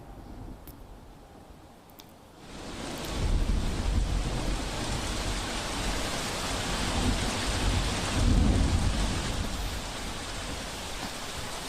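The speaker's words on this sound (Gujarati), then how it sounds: "પૂર્વ વિસ્તાર હોય કે પશ્ચિમ વિસ્તાર, આ તમામ જગ્યાએ વરસાદ પડી રહ્યો છે" Heavy monsoon rain with thunder over Ahmedabad: a quieter hiss swells after a couple of seconds into a dense, loud roar of downpour with deep rolling rumbles, continuing unbroken to the end.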